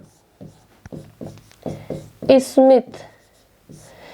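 Marker or chalk strokes on a classroom board as a teacher writes a name, a run of short scratchy strokes mixed with her speaking voice.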